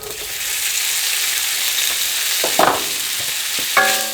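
Sausages searing in a little oil in a pot for red beans, a loud, steady hiss close by with a few clinks of utensils near the end, and no voices.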